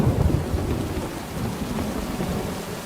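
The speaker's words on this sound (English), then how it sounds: "rain began falling hard from the sky, and it showed no sign of stopping" Heavy rain pours steadily in a film scene, a dense continuous wash with deep rumbling underneath, loud and close with no voices.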